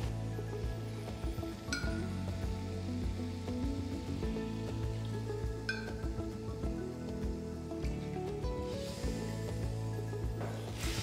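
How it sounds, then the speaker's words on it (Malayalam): Second coconut milk pours into a simmering pan of karimeen mappas, a soft, watery patter and trickle with faint clinks of a utensil, low in level and steady. "ഈ രണ്ടാം പാൽ ചേർക്കാം."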